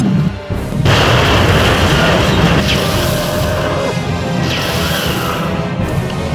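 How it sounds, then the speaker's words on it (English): A grenade blast in a military shooter game, a loud booming explosion that erupts after a brief lull and rumbles on with crashing debris for several seconds. "Граната пошла!"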